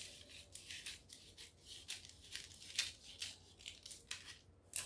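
Scissors cutting fabric for a bustier, a close, quiet series of crisp snips at a steady rhythm, about a dozen cuts in a row with no talk.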